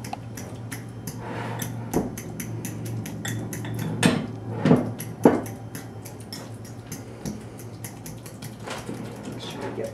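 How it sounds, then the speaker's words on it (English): Avocados being mashed for guacamole in a bowl, giving soft squelching and scraping taps of a utensil against the dish, with a few louder knocks midway and no talking. "Okay, so just mash."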